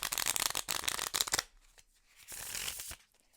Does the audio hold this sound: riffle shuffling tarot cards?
yes